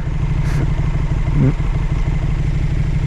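A 2020 KTM 1290 Super Duke R rumbles with a steady, low, pulsing engine note at close range, a constant throb throughout, with a voice talking over it.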